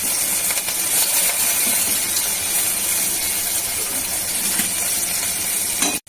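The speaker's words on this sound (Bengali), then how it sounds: "তেল আছে তো, আর তেল দিচ্ছি না, কাঁচা লঙ্কা দিয়ে দিলাম।" Green chillies dropped into hot oil already holding cumin and black and white mustard seeds, giving a dense, loud, continuous crackling sizzle up close that cuts off abruptly at the end.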